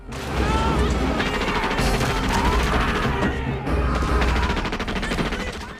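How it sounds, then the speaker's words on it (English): Dense, continuous blasts and rapid gunfire-like bangs roar almost without pause, loud and chaotic, from an action scene in Buffy the Vampire Slayer season 4 episode Primeval. "Oh, explosions!"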